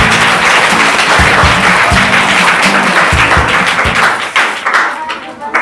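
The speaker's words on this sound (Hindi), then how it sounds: "जोरदार तालियां हो जाएगी।" Loud studio audience applause on a televised quiz show, dense steady clapping with heavy low thumps, thinning out toward the end.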